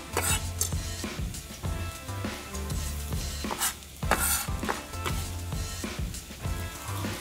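Garlic and ginger fry in coconut oil for lentil dhal, with a soft sizzle under repeated sharp scrapes and clinks of a utensil stirring against the pan.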